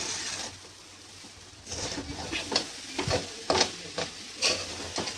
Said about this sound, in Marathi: तर मग आता 10-15 मिनिटानंतर आपल्याला हा भुगा असा परतवून घ्यायचा आहे